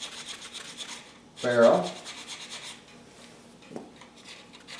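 A flat file with fine teeth rasps briefly across the rail under the barrel of a Hi-Point 995 TS 9mm carbine, one short scraping stroke amid quiet handling noise, with someone talking around it.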